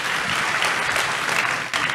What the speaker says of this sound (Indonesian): Tepuk tangan yang paling meriah buat itu